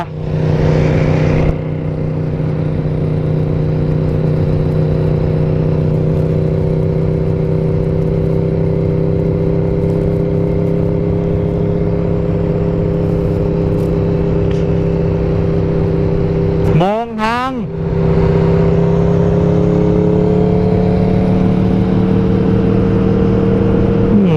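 An Aprilia RSV4 sport motorcycle ridden slowly into a narrow side street holds a loud, steady engine drone, then dips and revs sharply in a brief gear change before settling back into its even hum.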